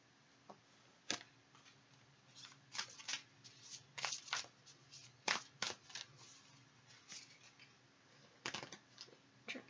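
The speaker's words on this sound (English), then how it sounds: "Try to shuffle these cards." Cards riffled and shuffled in quick bursts, crisp snapping flutters with short pauses between, close and fairly quiet.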